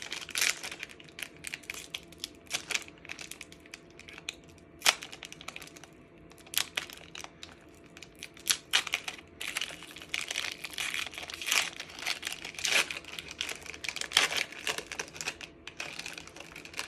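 A Pokémon card pack wrapper crinkles and crackles in quick, irregular bursts close up, with sharp rustling snaps continuing throughout.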